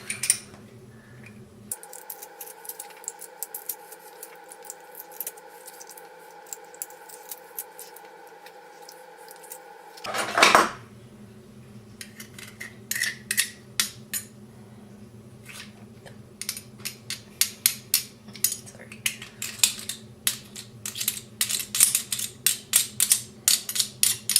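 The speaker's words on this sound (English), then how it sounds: "If you don't have a garlic press, just chop them really small." A kitchen knife chops garlic cloves finely on a cutting board, starting with a few isolated taps and building into long runs of rapid, crisp strokes over a low background hum.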